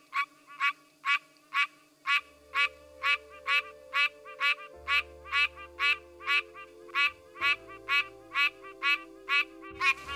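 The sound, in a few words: Pine Barrens tree frog males calling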